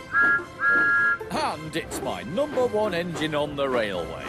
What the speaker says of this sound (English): This cheeky little tank engine has a very familiar whistle,